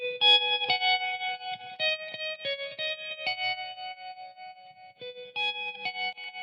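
Electric guitar through a vintage crunch amp setting, lightly distorted with a wavering vibrato, picked notes and chords ringing out in an uneven rhythm, no voices.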